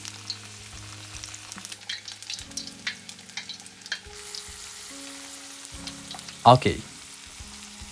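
Battered vegetables for tempura fry in hot oil, giving a soft, low sizzle with gentle bubbling under faint kitchen clatter. A sharp clank of utensils sounds near the end, and one word is spoken briefly.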